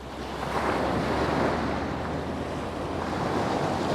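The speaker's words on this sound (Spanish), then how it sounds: "olas que rompen en la orilla." Sea waves break on the shore in a continuous, loud wash of surf, with wind noise buffeting the microphone throughout and no voices.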